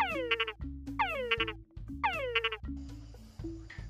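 Recorded mating calls of male frogs, urban and forest individuals, played through speakers in a female choice test: three loud, repeated bursts of rapid chirping trills over a low steady drone, each burst followed by shorter croaks.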